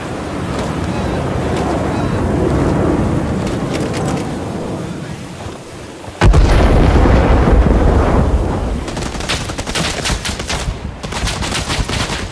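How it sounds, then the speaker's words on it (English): Napalm strike explosion in the Vietnam-era shooter Rising Storm 2: Vietnam, a sudden loud blast midway that rolls into a long roaring rumble among scattered gunfire and wind noise. "Napalm inbound. Take cover."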